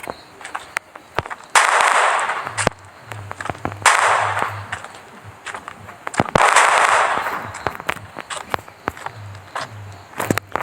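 Bombs go off in the Franklin Indian Bike Driving 3D video game as sharp, repeated blasts and cracks with bursts of gunfire, loud and close, broken up by brief crackling pauses.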